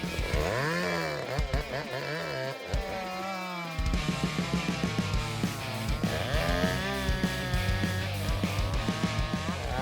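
A chainsaw cuts down and processes a rotten hemlock tree beside a house, its engine loud and close, revving up and down in rising and falling whines with steady rhythmic bursts while the blade works through the wood.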